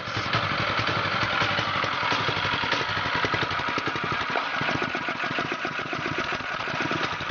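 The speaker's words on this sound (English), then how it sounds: "we have an engine running on natural gas" An engine running on compressed natural gas idles steadily at a fast idle, a close, continuous mechanical chugging with a rapid rhythmic pulse and no voices.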